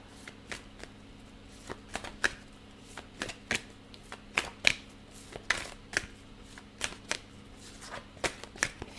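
Oracle cards being shuffled by hand: a steady series of crisp, papery riffles and snaps, roughly one or two a second, close and moderately loud over a low constant hum.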